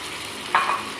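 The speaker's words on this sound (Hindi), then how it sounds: "और इसको मिक्स करेंगे और फ्राई करेंगे 3-4 मिनट के लिए।" Finely chopped potatoes fry in a pan for an aloo anday curry, giving a brief, close sizzle with a stirring scrape partway through.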